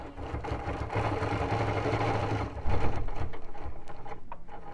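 A BERNINA Q Series sit-down quilting machine stitches steadily with a close, loud mechanical hum and rapid needle rhythm, then speeds up into a stronger, faster pulsing run.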